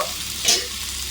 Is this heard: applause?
no